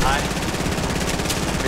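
Rapid gunfire in the video game Fortnite, dense continuous bursts of shots filling the clip, with players talking over the action.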